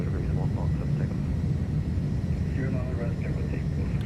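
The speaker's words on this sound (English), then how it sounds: "All right, climb power's coming in." Simulated iniBuilds A310 jet engines spool at takeoff and climb power in Microsoft Flight Simulator, a steady loud broadband roar with a low rumble that holds throughout.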